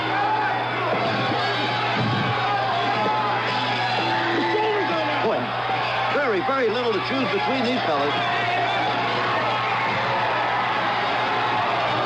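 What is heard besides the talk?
crowd cheering at a wrist wrestling match, Veterans Auditorium, Petaluma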